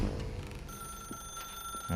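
A telephone rings in The Stanley Parable: Ultra Deluxe, a steady electronic ring heard faintly over a dense game soundscape with low hum and background tones.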